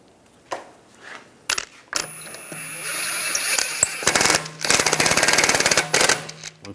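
Impact gun spinning lug bolts onto a rear wheel of a 2009-2013 BMW 328i xDrive, with a few faint knocks, then a steady motor whine and a loud stuttering rattle of rapid impacts, close and without talk.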